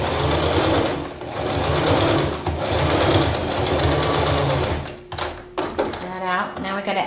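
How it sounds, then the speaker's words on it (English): A sewing machine runs a quick basting stitch on fabric for piping, whirring steadily and loudly for about five seconds before stopping, followed by short stops and starts and some talk. "Just do a quick baste stitch."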